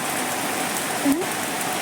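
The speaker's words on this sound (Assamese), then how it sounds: "চাওকচোন কিমান ডাঙৰ ডাঙৰকৈ টোপাল পৰিছে, বৰষুণৰ টোপাল।" Heavy rain of large drops falls steadily under a dark cloudy sky, a dense, even hiss close by with one brief louder spatter, no talking.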